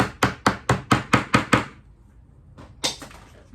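A quick run of seven sharp hammer taps driving a small nail into a wooden embellishment, evenly spaced and close, then a pause and one more firm tap.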